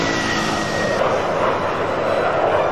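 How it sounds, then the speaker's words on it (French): Airliner landing and braking on the runway at Geneva, a loud continuous roar of engines and rolling noise that holds steady throughout, with no talk. "Et voilà, atterrissage en douceur, freinage un peu rude."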